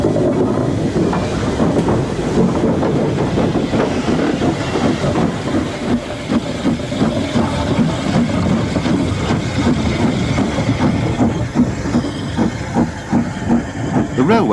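A 1953 British Railways 0-4-0 tank engine built to a 1932 LMS design works the Cromford and High Peak line, loud continuous steam hiss with rhythmic chuffing and rail clatter, close by and steady throughout.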